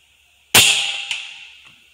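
A single sharp shot from a .25 caliber Air Venturi Avenger air rifle fired outdoors at long range, a sudden crack followed by a ringing tail that fades over about a second, with a faint second click shortly after.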